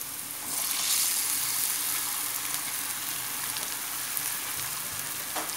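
Zucchini frying in a pan with eggs just added, a loud close sizzle that swells as the eggs hit the hot oil and then holds steady, with no talk.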